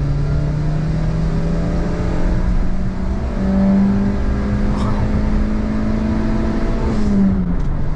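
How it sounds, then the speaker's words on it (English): A Suzuki Wagon R's small car engine drones steadily at high revs, the pitch holding then shifting slightly, loud and close with no speech over it. "Let me rev it out."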